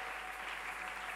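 A church congregation claps steadily and densely for the whole of this brief stretch, a continuous wash of applause that fills the room without breaks.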